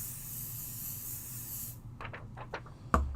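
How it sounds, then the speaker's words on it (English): Pixie adhesive spray hisses in a steady, close burst for nearly two seconds as it coats a craft stencil, then stops, leaving a few soft rustles and a sharp tap near the end. "I'm going to hit that with a little pixie spray"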